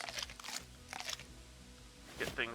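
A character in Len's Island eats food, giving a few short crunchy bites at a quiet level with small pauses between them.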